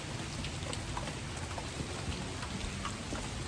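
Heavy rain pours down outdoors in a steady, dense hiss of drops hitting surfaces, constant and close throughout with no voices.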